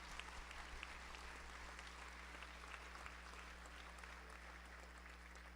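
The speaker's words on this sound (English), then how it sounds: "Let's give another round of applause for our students from Tomball Star Academy." Sustained audience applause at a school district awards ceremony, a steady dense patter of many hands clapping from start to finish at moderate volume, with constant low hum underneath.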